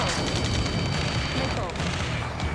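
Battle gunfire from the Ace Combat 7 combat game, a dense continuous rumble of shots and booms under urgent radio voices calling out.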